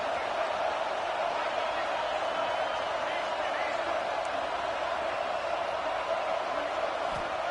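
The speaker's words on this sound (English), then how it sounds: "And here comes the noise. This crowd is trying to inspire this defense to make a big red zone stop." Stadium crowd noise in a college football video game, a steady, dense roar of the crowd holding at an even level throughout, with no breaks and no clear individual voices.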